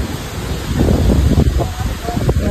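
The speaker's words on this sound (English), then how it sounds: "It's windy out here, so sorry if y'all can't hear" Gusty wind buffeting the microphone, a loud rumbling roar that rises and falls, with a voice partly buried underneath.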